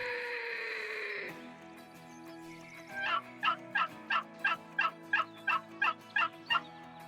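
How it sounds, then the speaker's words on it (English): A wild turkey gobbler in the New England mountains gives a rapid, evenly spaced run of about a dozen gobbles, clear and moderately close, after a sustained tonal call at the start. "Well, there's our gobbler."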